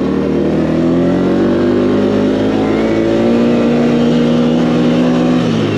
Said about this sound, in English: belt is just whistling